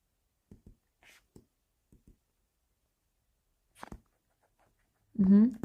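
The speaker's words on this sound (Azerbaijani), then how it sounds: "köçürtmürəm, yazıram" Handwriting during a maths lesson, soft short scratches of a pen or marker in sparse separate bursts on a near-silent background, followed by a brief spoken phrase at the end.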